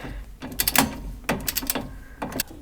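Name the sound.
torque wrench tightening steering stabilizer bolt on Jeep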